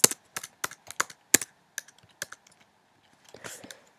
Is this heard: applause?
no